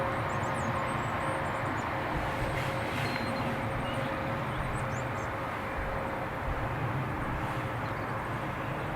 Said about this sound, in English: Next arrival, another ATR, this time from Edinburgh.